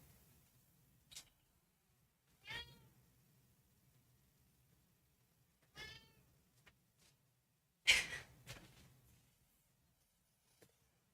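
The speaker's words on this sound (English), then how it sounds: "I heard a cat earlier." A cat meows several times, four or five drawn-out calls spaced a few seconds apart, nearby and clear against a quiet room, and one call louder and harsher than the others.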